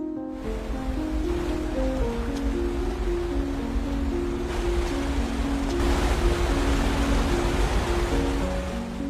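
Steady broadband rush of a falling waterfall runs throughout, with low sustained musical tones layered on top, in the film Lady Macbeth.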